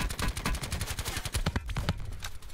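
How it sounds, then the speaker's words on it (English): Rapid automatic gunfire in Call of Duty Blackout, a loud rhythmic burst of closely spaced shots with a few scattered single cracks near the end. "Shooting at us."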